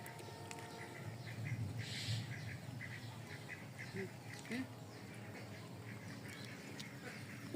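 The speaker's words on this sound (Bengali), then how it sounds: "এগুলো আমাদের ছোট ছোট দুগা চীনা হাঁস" Small Chinese ducks at a village pond quack in short, scattered bursts, fairly faint against a soft background, with a few louder squawks near the middle.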